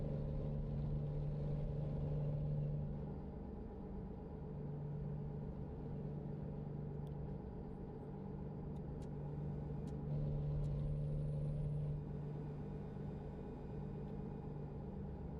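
A truck's engine in a truck driving game drones steadily at a low pitch with a smooth, not-too-loud rasp and a faint hum behind it, with no talking over it.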